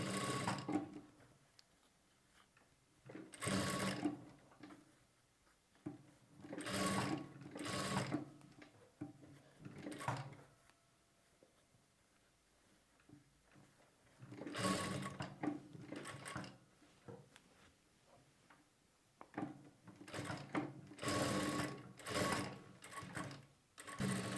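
Close bursts of a sewing machine stitching lining and piping onto cloth, several runs of rapid mechanical whirring separated by short quiet pauses.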